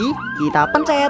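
A car siren in priority mode in the Roblox video game wails in quick rising and falling sweeps that repeat rapidly. It is loud and close, and someone speaks briefly over it.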